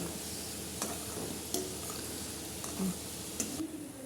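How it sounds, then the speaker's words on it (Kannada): Kodubale fry in oil over a low flame with a soft, even bubbling sizzle, quiet and close, punctuated by occasional light scrapes and taps from stirring. "ಇದನ್ನು ಫ್ರೈ ಮಾಡ್ಕೋಬೇಕು ಫ್ರೆಂಡ್ಸ್ ಚೆನ್ನಾಗಿ ಫ್ರೈ ಮಾಡ್ಕೋಬೇಕು"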